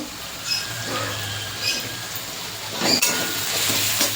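Ground spices, including cumin paste, Kashmiri chilli powder and turmeric, fry in oil for a chicken dish, giving a steady soft sizzle with intermittent stirring and the clink of a utensil against the pan.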